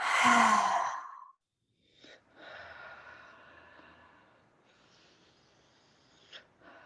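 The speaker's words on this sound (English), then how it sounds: "take 3 really nice energizing breaths all the way through your whole body" Slow, deep breaths drawn in and let out, one loud heavy exhale followed by quieter, softer inhales and exhales, close and unhurried with no talking.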